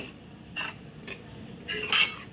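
Goda masala tempering being stirred in a pot, three short metallic scrapes of a spoon against the vessel, the last one loudest, with quiet background between.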